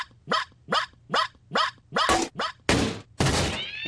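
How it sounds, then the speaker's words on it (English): A Robo Puppy toy dog from a TV advert yips in a steady run of short, evenly spaced barks, close and clear, ending in a few harsher, noisier bursts. "Robo Puppy commencing 2-hour yipping session."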